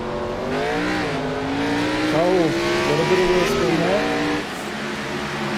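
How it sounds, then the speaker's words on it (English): Race car engine at Darlington Raceway revving with a brief wheel spin, a steady droning motor tone that rises and falls in pitch, heard at a distance. "A little bit of a wheel spin there"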